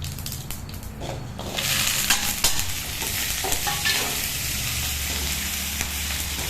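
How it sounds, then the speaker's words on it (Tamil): Mustard seeds, dal, fenugreek and green chillies sautéed and stirred in a pan for a Tamil sothi kuzhambu, giving a steady close sizzle with scraping stirs that grows louder after the first second and a half. "கடுகுழுந்த பருப்பு வெந்தயம் எல்லாம் போட்டு நல்லா வதக்கிக்கோங்க"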